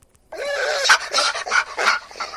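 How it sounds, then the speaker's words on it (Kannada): Dogs fighting close by: a sudden burst of snarls, yelps and whining cries in uneven bursts that starts after a brief quiet moment, with no one speaking. "ನಾಯಿ ಕಿತ್ಲಾಡ್ತಾ ಇದೆ"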